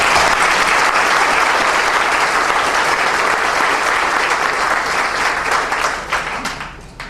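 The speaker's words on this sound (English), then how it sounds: "a big round of applause for everybody" A room full of classmates at a 50th high school reunion gives the reunion committee a big, dense round of applause, loud and continuous before fading near the end.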